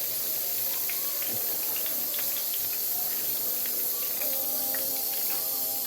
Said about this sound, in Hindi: ये मैंने ऑयल डाल लिया, ऑयल गर्म हो गया। तो अब शामिल कर देंगे कबाब।